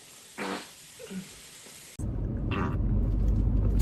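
A fart sounds twice: a short burst, then a longer low rasping one against a noisy, rumbling background. No talk.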